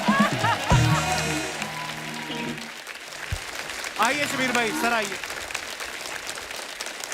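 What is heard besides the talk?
studio audience applause for the show guests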